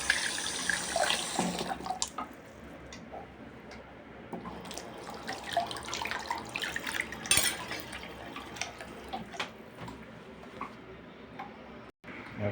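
Tap water running into a sink while plates are washed, an uneven splashing flow with scattered clinks and clatters of dishes, fairly close and without talk.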